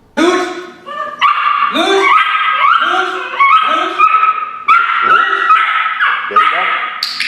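A dog vocalizing during bark-on-command training, giving a rapid string of whiny yips, whimpers and short barks close by, fairly loud and nearly continuous with brief pauses.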